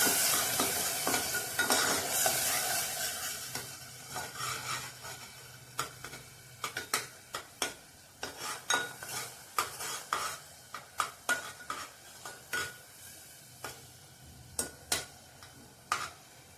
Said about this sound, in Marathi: आपण तेलात चांगला भाजून घेऊया